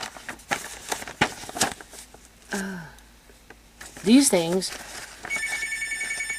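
A telephone rings near the end of a kitchen scene, a bright repeating electronic tone entering after talk and scattered clatter, with voices heard beforehand.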